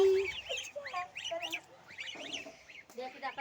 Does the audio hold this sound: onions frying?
no